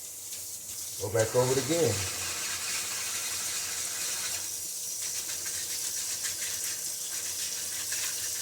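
Tap water runs steadily while a juicer strainer is rinsed, a constant hissing gush from a kitchen faucet with a few clattering knocks early on and someone speaking briefly over it.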